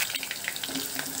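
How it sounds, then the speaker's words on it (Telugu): Cauliflower pieces in batter frying in hot oil for gobi manchurian, a dense, even crackling sizzle throughout, close and loud with no talk. "పీసెస్ లన్నీ వేసి ఒకదానికొకటి అంతకుండా విడివిడిగా వేసి వేయించుకుందాము"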